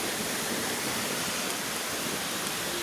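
Waterfall at Pemgiri pouring steadily, a loud continuous broadband roar of rushing water with no pauses, heard close and alone.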